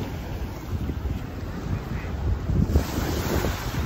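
Ocean waves washing in at Waikiki Beach in Honolulu, a steady rumbling surf heavily buffeted by wind noise on the microphone.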